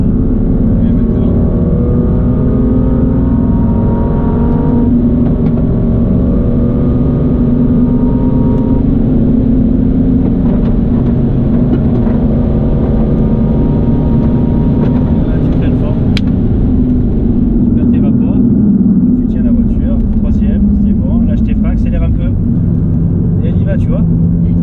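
A race car on the Le Castellet circuit, a loud sustained engine roar with rising and shifting pitch as it accelerates, while someone talks over it.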